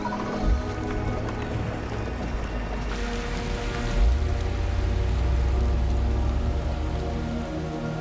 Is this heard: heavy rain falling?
yes